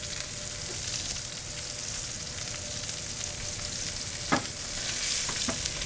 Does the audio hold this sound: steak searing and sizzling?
yes